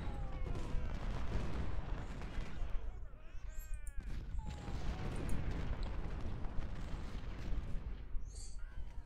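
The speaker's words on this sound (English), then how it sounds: "Artillery." Artillery from the Civil War strategy game Ultimate General: Civil War, set at Antietam, pounds continuously in dense, overlapping booms and rolling volleys, a loud battle din with a voice talking over it at times.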